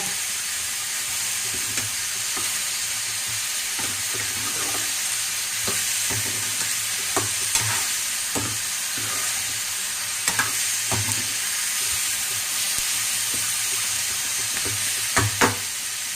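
Masala frying in a pan for a sardine fish curry, a steady close sizzle with scattered clinks and scrapes of stirring across the whole stretch, no voices.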